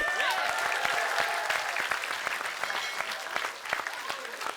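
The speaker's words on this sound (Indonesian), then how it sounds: "kita kasih tepuk tangan buat Jumur." A studio audience at a comedy show claps, a dense burst of many hands that stays strong and gradually thins out, with a few voices mixed in.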